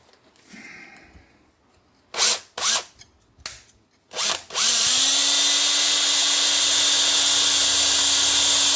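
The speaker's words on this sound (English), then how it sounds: "we're going to drill a few holes and rivet this in" A power drill works on a metal gusset, starting with several short loud bursts of the motor, then one sustained high whine as the bit bores steadily through.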